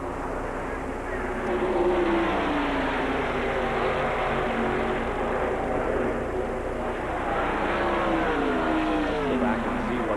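Stock cars roar around the Talladega superspeedway during the 1992 Winston 500, a dense continuous engine drone swelling and fading as cars pass, with a commentator speaking over it.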